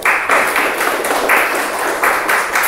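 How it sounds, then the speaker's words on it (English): An audience applauds a speaker at a club meeting, with dense clapping that swells and eases in a few waves over nearly three seconds and no voices on top. "So please give him a round of applause."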